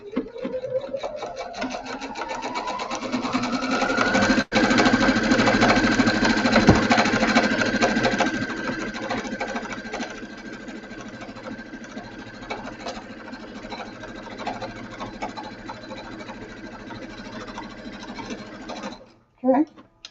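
A sewing machine stitches binding onto a placemat made from a dish mat and jelly roll strips, a close, continuous rapid mechanical whir with a rising pitch at the start and a brief pause, running steadily for about twenty seconds.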